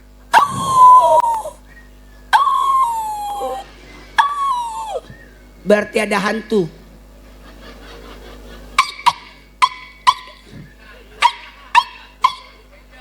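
A man in a lively Indonesian sermon imitates a dog with his voice, giving several drawn-out howling barks and then a quick run of short, sharp yips, close and loud, broken by brief pauses and followed by more talk.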